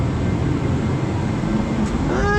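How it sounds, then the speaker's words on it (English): A garage heater runs on a cold day with a steady, loud broadband roar and rumble that fills the whole clip, plus a faint rising whine near the end. "Sorry about the noise from the whatchamacallit, heater."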